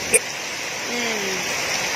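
Heavy rain falls as a loud, steady wash throughout, with a sharp knock near the start and a brief vocal murmur in the middle.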